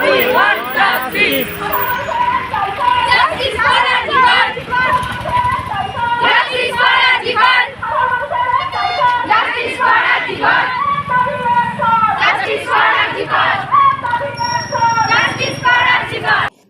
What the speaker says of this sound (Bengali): পূর্ব বর্ধমান জেলার পূর্বস্থলী দুই নম্বর ব্লকের কালেখাতলা এক নম্বর গ্রাম পঞ্চায়েতের অন্তর্গত বিশ্বরম্ভা মোড় থেকে জামালপুর মোড় পর্যন্ত একটি প্রতিবাদ মিছিল অনুষ্ঠিত হয়